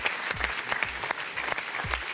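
A studio audience on a French television game show breaks into applause, a steady, dense patter of many hands clapping at moderate loudness, with low thumps recurring underneath.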